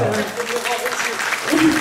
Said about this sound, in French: Hop là, on peut l'applaudir bien fort.